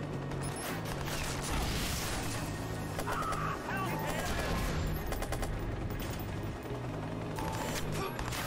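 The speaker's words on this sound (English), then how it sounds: "God, the AK has got some recoil." AK assault rifle gunfire in the Watch Dogs video game, rapid dense bursts of automatic shots running steadily throughout, loud and close, with game noise layered underneath and no speech over it.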